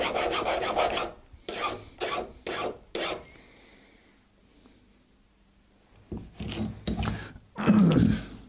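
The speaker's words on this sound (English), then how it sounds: "Often I use the vise for deburring just like a cradle for the part, so it doesn't slide all over the place." Steel file rasping across the edges of a machined part held in a vise, a close series of rough scraping strokes in bursts with a short pause midway, loud and alone.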